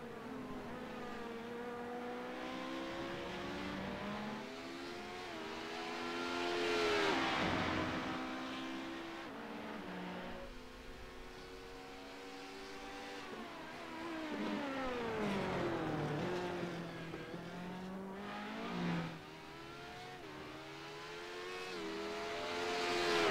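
Race cars at speed on a track during a GT3 and Daytona prototype sports car race, engines roaring continuously and pitch sweeping up and down through shifts as cars pass and jostle side by side, loud throughout.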